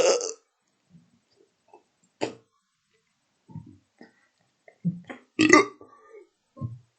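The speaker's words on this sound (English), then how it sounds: "we're going to show you how to do the world's biggest burp" A series of loud, drawn-out human burps, some short and some long and guttural, break out separately between stretches of silence, with the strongest one near the end.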